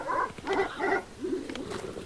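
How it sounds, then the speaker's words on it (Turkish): In the horror video game Red Lake, dogs bark outside, giving several muffled, somewhat distant barks and yelps in an uneven sequence over a low background hum. "Şu an dışarıda iki tane farklı köpek var."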